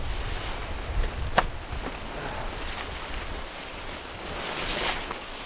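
Steady wind buffeting the microphone with a broad rushing noise at a waterside campsite, gusts swelling now and then, alongside faint water sounds and no voices.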